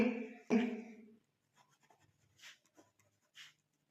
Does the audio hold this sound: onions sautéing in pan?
no